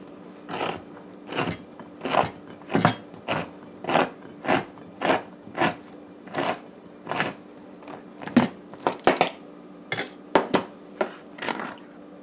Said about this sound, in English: so we're going to open our corned mutton